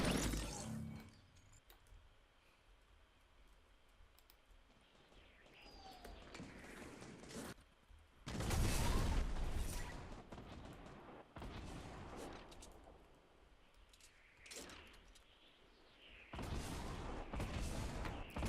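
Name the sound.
gunfire in the video game Fortnite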